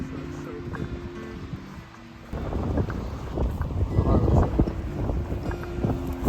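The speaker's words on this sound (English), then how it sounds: "so far the winds honestly don't seem too bad." Wind blowing along the Lake Michigan shore, a steady close rush and buffeting across the microphone that grows stronger partway through, with faint rumble underneath.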